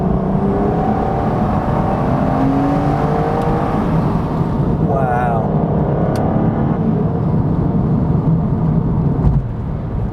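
An Aston Martin DB9 engine drones steadily and climbs in pitch as it accelerates in sport mode, heard from inside the cabin, with a brief spoken exclamation partway through.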